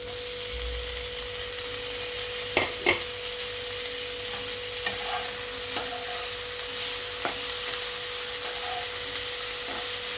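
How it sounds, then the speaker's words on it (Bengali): Tomato and capsicum fry with lightly fried onion in a pan for Chinese-style macaroni, giving a steady sizzle broken by a few sharp clicks of stirring. "এবারে আমি টমেটো আর ক্যাপসিকামটা দিয়ে দিলাম"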